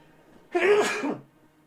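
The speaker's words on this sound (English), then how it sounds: "Gotta sneeze, one second." A single loud sneeze, close up, with a quick sharp intake and burst, then quiet.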